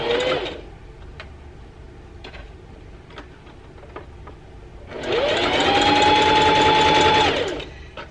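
A sewing machine stitches a lettuce hem on fabric, a short whirring burst at the start, then quiet light clicks and handling, followed by a longer loud run of rapid stitching that winds down near the end.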